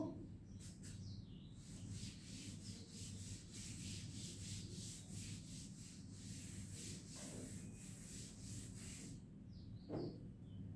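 A board is rubbed clean of writing in a classroom, a steady soft scrubbing and swishing that runs continuously at low level over a faint room hum.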